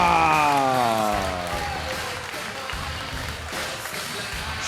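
Wrestling crowd at a PCW Ultra show cheering and applauding after Jeff Cobb's win over Scorpio Sky, loudest at first with a fading tonal sound, then settling into a steadier, softer roar with scattered claps.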